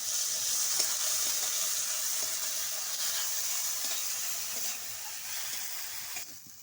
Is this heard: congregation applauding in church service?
no